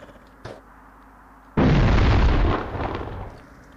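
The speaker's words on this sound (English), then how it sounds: "I'm gonna toss a grenade down" A grenade detonating in the video game The Thing, a small pop followed by a sudden, loud, deep boom that rumbles for about a second before fading.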